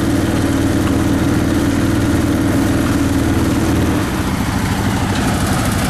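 A farm tractor engine running nearby, a loud, continuous low rumbling drone with a steady hum that shifts slightly partway through.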